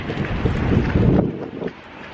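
Strong wind outdoors in cold Boston weather buffets the microphone, a heavy low roar rising and falling in gusts for a couple of seconds.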